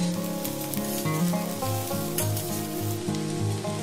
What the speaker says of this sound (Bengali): এবারে আমি কেটে রাখা উচ্ছেগুলো দিয়ে দেবো এর মধ্যে, মিডিয়াম গ্যাসে এটা নরম করে ভেজে নেব।